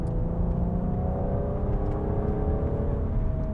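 Cabin of a BMW M135i underway, its engine droning steadily with a rising tone as revs climb, a continuous moderate hum heard from inside the car with no talking.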